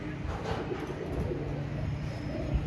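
Heera Laal pigeons coo softly in low, rolling calls, with faint background murmur and a steady low rumble underneath.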